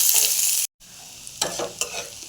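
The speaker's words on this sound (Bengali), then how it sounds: "পেঁয়াজটা ভালো করে ভাজা ভাজা করে।" Onions frying in a pan already seasoned with cumin and bay leaf, a steady hiss of oil broken by a brief silence, then quieter sizzling with a few scraping stirs of a spatula.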